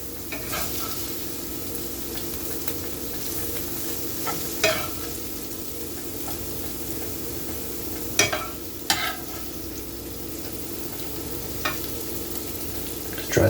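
Onions and meat frying in a pan for tacos give a steady, close sizzle, broken by a few sharp clicks and scrapes of stirring.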